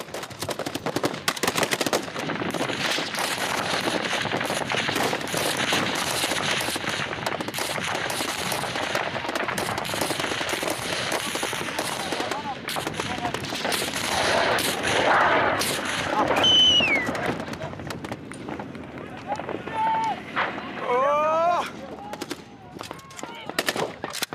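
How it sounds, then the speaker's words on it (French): Heavy, sustained automatic gunfire pounds an armored vehicle during a combat assault in Syria, with dense, loud, overlapping bursts running almost continuously and a few whistling tones near the end. "le blindage du véhicule résiste aux tirs nourris"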